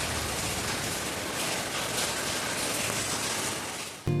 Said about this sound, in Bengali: বৃষ্টির আওয়াজটা শুনে জানালা দিয়ে যখন দেখছিলাম মনে হচ্ছিল বাইরে মনে হয় শিলাবৃষ্টি হচ্ছে